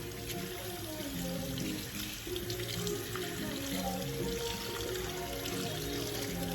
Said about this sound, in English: Okay, I'm rinsing it.